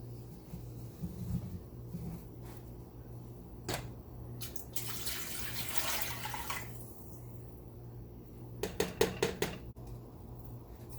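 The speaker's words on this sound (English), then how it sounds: "pour the water or chicken broth in the pot" Water or chicken broth for a keto taco soup is poured into a cooking pot, giving a soft splashing rush in the middle. Scattered clinks of cookware and drips come before and after, all fairly faint against quiet room noise.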